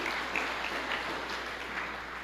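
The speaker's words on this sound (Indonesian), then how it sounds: "Berikan tepuk tangan yang meriah buat Tuhan." Church congregation applauding together during a sermon, a steady, dense wash of clapping that stays fairly even and moderately loud across the whole stretch with no talk over it.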